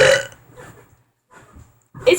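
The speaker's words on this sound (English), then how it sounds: "biggest burp I can do" A person lets out a few loud, croaky burps indoors with short quiet gaps between them, close to the listener, one at the start and another near the end.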